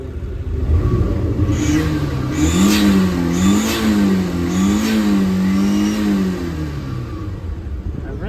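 A turbocharged car engine revs up and down repeatedly in neutral while stationary, a loud close rumble rising and falling in steady waves before settling back.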